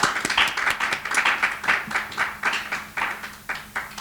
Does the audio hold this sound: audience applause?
yes